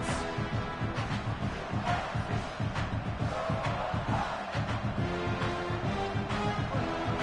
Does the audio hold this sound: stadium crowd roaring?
yes